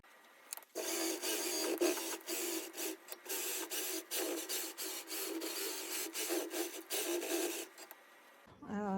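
A Gammill longarm quilting machine stitches across a quilt with a steady, fast mechanical chatter. The sound runs continuously at close range for most of the stretch, then stops abruptly near the end.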